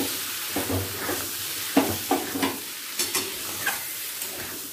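Boiled matar (pea) dal being fried and stirred in a pan for a dal puri filling. Rhythmic scraping strokes cut through a steady close sizzle, with no talking.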